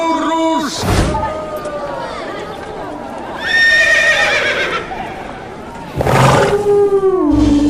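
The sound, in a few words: horse neighing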